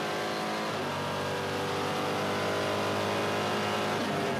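V8 SuperTourer race car flat out at Pukekohe, heard onboard at over 240 km/h down the back straight, a loud, dense, sustained engine roar with wind noise, steady throughout.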